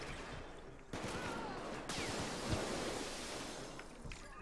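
Gunfire in Payday 2 during a SWAT assault, with a dense stream of loud, noisy shots and bursts filling the whole moment.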